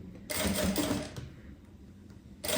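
A sewing machine stitches piping onto bag fabric for a shoulder bag, running in a short burst of rapid rhythmic clatter that slows and stops, then starts again at the end, close and fairly quiet.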